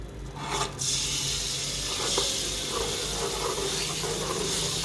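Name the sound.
ginger garlic paste frying in a pan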